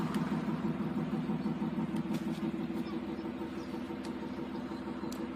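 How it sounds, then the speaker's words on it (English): An Audi SQ5's engine runs with a steady, low exhaust hum at idle, fairly quiet and even over several seconds. "Starting the car up, you hear that exhaust note."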